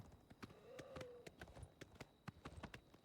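Horse hooves clip-clop in a quick, uneven rhythm at moderate distance in Oblivion Remastered, with a brief faint whinny partway through.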